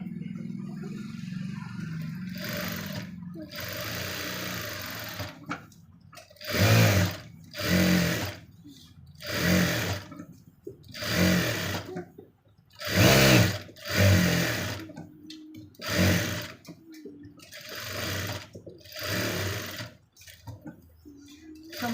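A sewing machine stitching the front cup seam of a blouse, running in a series of loud whirring bursts separated by short pauses, close up and alone.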